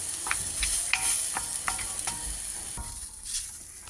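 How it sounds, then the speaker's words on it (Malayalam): Peanut snack being stirred in a pan, a soft steady sizzle of frying with repeated scraping and clinking strokes of the spoon against the pan, close and with no talk. "ഇതിങ്ങനെ ഇളക്കി നമുക്ക് ഉപ്പുമാവൊക്കെ ഇളക്കുന്ന പോലെ നമുക്ക് ഇത് വേറെ ആകുന്ന വരെ ഇളക്കണം."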